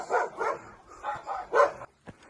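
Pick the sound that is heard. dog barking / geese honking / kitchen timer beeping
dog barking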